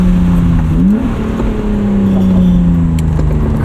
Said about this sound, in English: Crispy rev matching.